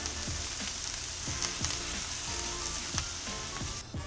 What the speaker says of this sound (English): So now we're just going to flip this over, and we want to get this a nice sear on this side as well.